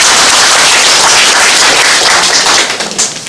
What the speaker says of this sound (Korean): 제가 인사드릴 때 박수 치시는 거를 잊어버리신 것 같아요. 그래서 한 번 더 치도록 하겠습니다